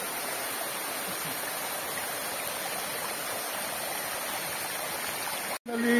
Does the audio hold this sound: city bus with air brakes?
no